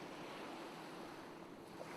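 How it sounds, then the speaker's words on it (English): Ocean waves wash in at the water's edge, a soft continuous surf rush with low wind noise, faint and steady across the short stretch with no voices. "At least the waves sound the same"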